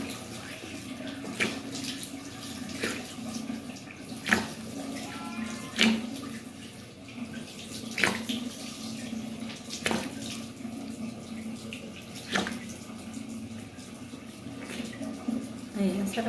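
Tap water runs steadily while a DIY body scrub is rinsed off the skin, with soft splashing and a series of sharp intermittent knocks or taps recurring every couple of seconds.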